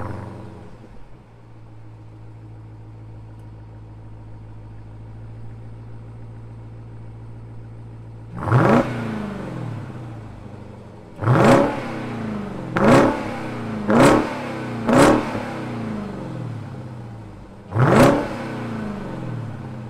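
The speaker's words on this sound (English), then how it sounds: "let's rev it a couple times." A 2020 Jeep Grand Cherokee Trackhawk idles with a low steady rumble, then its engine is revved sharply about six times, each loud blip rising and falling back in quick, separated bursts with no talk.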